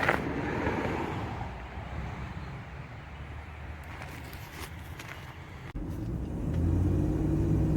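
A 1981 Chevrolet Malibu wagon on the move gives a low, steady engine and road rumble mixed with wind noise, fairly quiet and continuous with no voices.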